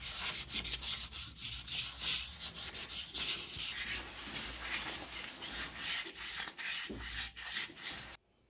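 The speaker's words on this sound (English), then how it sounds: "The same procedure again, but with 800 grade sandpaper." Fine 800 grade sandpaper rubs back and forth over a surface in a steady, soft scratching rhythm, close and quiet, for several seconds before stopping.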